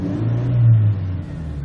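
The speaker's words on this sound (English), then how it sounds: "We'll give it a bit of a rev now." Mercedes-Benz C180 Kompressor engine revving while parked, a single steady rise and fall of a mid-pitched engine note heard close and alone, with no talk over it.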